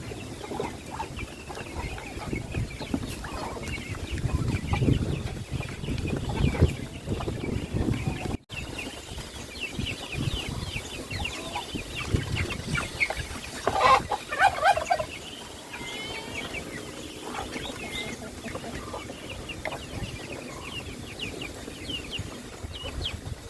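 Pet ducks on a rural farm, a low chorus of quacking and fowl chatter over a steady outdoor background, moderately near, with bursts of louder calls around the middle.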